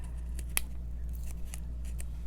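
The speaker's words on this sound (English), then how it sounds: "Let's bring in some scissors." Several quick, crisp scissor snips cut through tape on a paper craft card, sparse and close, over a steady low hum.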